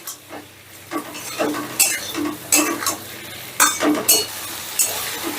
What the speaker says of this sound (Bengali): এবার গ্যাসের আঁচটা হাইতে রেখে এই সমস্তটা আমি একটু ভাজা ভাজা করে নেব